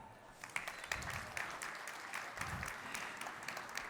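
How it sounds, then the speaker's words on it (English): An audience at a pitch competition final claps steadily, a warm dense patter of applause at moderate distance, with a few louder claps near the start. "Marcus Geis, the COO of the company. Please, a huge round of applause for him."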